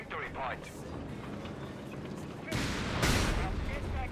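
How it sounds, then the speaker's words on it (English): Ground attack strike in the Company of Heroes 3 wartime strategy game: faint rumbling battle noise gives way midway to a louder broadband blast and crackling explosions. "I think that was a ground attack"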